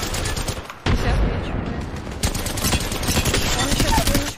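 Rapid gunfire from a Wingman pistol in a ranked Apex Legends match: dense bursts of loud, close shots and impacts run nearly continuously over busy game noise, with players talking over the action.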